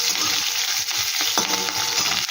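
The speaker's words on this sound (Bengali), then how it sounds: "এটাকে একটু ভাজা ভাজা করে নেব হালকা করে।" Garlic and green chillies fry in a pan, a close, continuous sizzle with stirring scrapes and small crackles, no voices.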